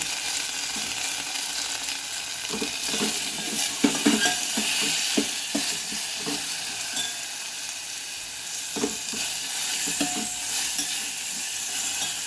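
Cooked bottle gourd pieces sizzle and crackle steadily in a hot mustard seed and curry leaf tempering, with spoon stirring clicks scattered throughout and no voices.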